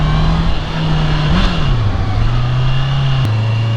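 A Honda CB650R motorcycle pulls away through traffic, its steady engine drone rising briefly in pitch as it accelerates, loud and close throughout.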